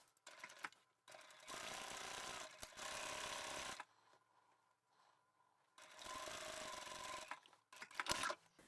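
A sewing machine runs a seam with a one centimetre allowance on a small fabric tote bag band, in two sustained bursts of rapid stitching separated by a quiet pause and small handling clicks.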